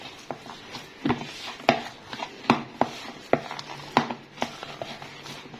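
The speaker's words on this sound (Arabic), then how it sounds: "ابتدي اعجن." Tortilla dough made with milk or water is kneaded by hand, giving soft, irregular slaps and presses roughly every half second, close and fairly faint, with no talking.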